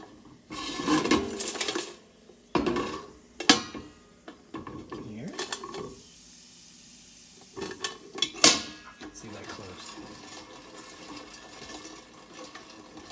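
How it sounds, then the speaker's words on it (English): Spoon or spatula scraping and clanking around a pot of kettle corn on a stovetop, in intermittent bursts of stirring with quieter gaps and a faint background hiss. "Gotta keep stirring it. You don't want this stuff to burn, so keep mixing, nice and slow."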